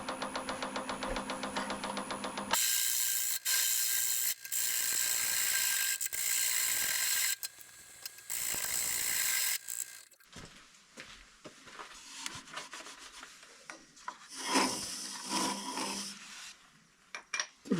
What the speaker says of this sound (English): I think I bent my quill here. That's why I have that tapping sound,